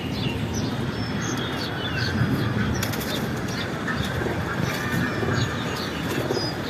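Pigeons kept in a home loft coo low and murmur while wings flutter and soft chirps sound now and then over a steady background hum.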